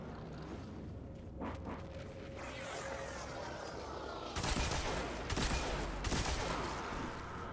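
Solar machine gun fire from Destiny 2 rattles in sustained rapid bursts, loud and close, with several harder volleys cutting in over a continuous combat backdrop.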